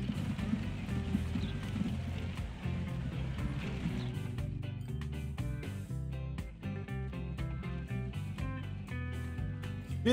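Horse sounds from the train-and-transport building game Transport Fever, with clip-clop hooves and a whinny heard under a steady, dense bed of game music throughout.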